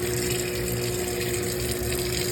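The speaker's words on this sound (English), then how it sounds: "now we'll give it a good rinse" Water gushes steadily over a water filter housing being rinsed, a continuous close rushing splash with no pauses and no voices.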